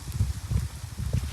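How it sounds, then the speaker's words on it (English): Strong wind buffets and rumbles in low, gusty blasts across the whole short stretch, loud and close as if hitting a microphone outdoors. "It's super windy today."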